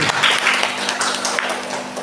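Brief burst of audience applause at the final of a school essay-writing competition, moderately loud and mixed with a voice talking.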